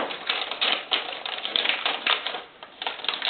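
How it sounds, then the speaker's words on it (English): Tape pulled and pressed along the sides of a soap loaf mold while lining it, a close run of rapid crackly, clicky ripping bursts, fairly loud and alone. "And then you just wrap this on the side. Put your tape here."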